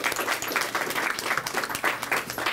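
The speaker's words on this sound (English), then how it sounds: "Let's give a round of applause for the Noma District." Crowd applause at an outdoor grand opening and ribbon cutting for a cereal bar in the NoMa District, dense and steady clapping with a few louder bursts, no speech.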